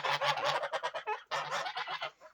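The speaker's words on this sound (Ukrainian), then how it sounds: "Ось такий гусак." A goose honks in rapid bursts of loud, nasal calls, pausing briefly before another run of honks, close by.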